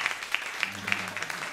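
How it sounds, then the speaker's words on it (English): An audience claps for a saxophone quartet at a live performance, a thin scattering of applause with sharp individual claps at a fairly even pace, moderately close. "So can you give the quartet a round of applause?"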